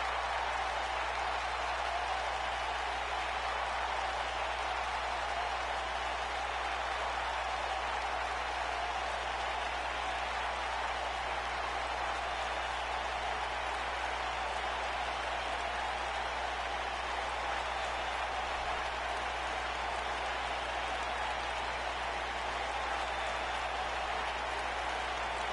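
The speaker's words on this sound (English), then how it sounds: "The crowd here is loving it." Wrestling arena crowd cheering and applauding after a World Heavyweight Championship match, a dense, steady roar of clapping and cheers that holds loud and unbroken throughout with no clear voices on top.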